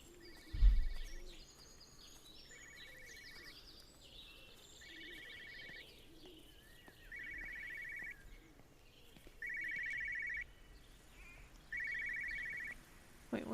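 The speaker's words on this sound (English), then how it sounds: "Yep, I hear another phone." A telephone rings repeatedly in Everybody's Gone to the Rapture, a quiet warbling ring in regular bursts about every two seconds over a soft ambient bed, with no one talking.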